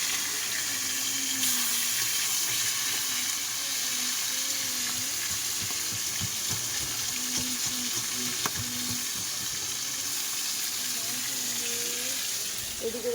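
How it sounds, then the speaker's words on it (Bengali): Fish sizzling as it fries in a pan, a steady close crackle running throughout with occasional clinks and stirring noises layered over it. "বাবার এই মাছগুলো ভাজতে যে এত ভালো লাগছে আমার।"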